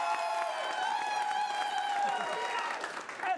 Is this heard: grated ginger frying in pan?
no